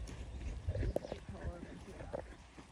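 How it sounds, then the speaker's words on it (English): Hoofbeats of a young horse trotting in circles under a rider, a soft rhythmic clip-clop with a voice talking over it. "you can probably go forward to trot"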